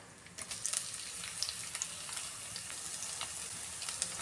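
Crushed ginger and garlic fry in coconut oil with mustard seeds for a sardine curry, making a faint, steady sizzle with scattered small crackles throughout.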